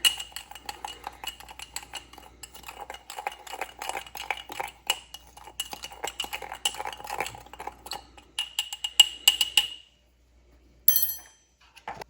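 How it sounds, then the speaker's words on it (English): A spoon stirs a soda ash mixture in a small jar with quick, steady clinking and scraping for about ten seconds. After a brief pause, one short final burst of stirring follows. "So we got both of them together, just going to stir it together."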